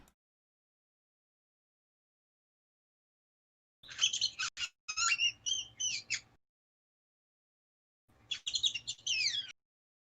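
A small brownish-black blackbird gives bursts of squawking, chattering calls in two separate bouts, loud and close against near silence.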